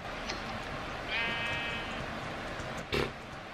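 Minecraft sheep bleating in a blocky game world, a single wavering bleat rising clearly above low background game ambience, followed shortly by a brief sharp click.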